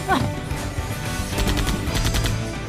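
Gunfire in the PC adventure game Runaway 3: A Twist of Fate, a loud sharp shot followed by a sustained noisy burst of shots under music, with voices speaking through it.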